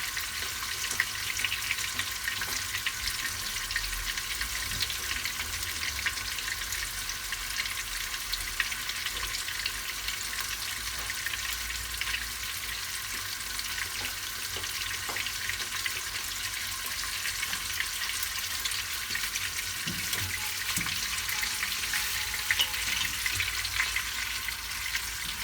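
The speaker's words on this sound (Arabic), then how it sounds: "شوف المقله يطرش لي على بالكم." Hot oil spatters and sizzles in a frying pan while chicken thighs cook for yellow rice, a dense, continuous crackling hiss up close with occasional sharper pops and no talking.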